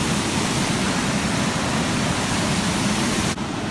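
Waterfall roaring steadily nearby, a loud dense wash of falling water that holds constant for several seconds with no voices.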